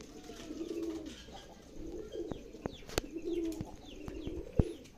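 Homing pigeons coo in soft, repeated low calls, close by, with sharp clicks and taps scattered among them and faint background chirps.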